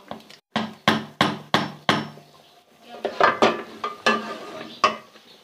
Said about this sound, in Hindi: और इसको मिक्स कर देंगे,